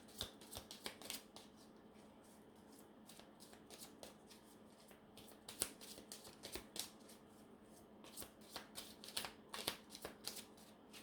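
Tarot cards are shuffled by hand in a quiet room, giving repeated soft riffles and crisp card snaps in uneven bursts throughout, with no talk.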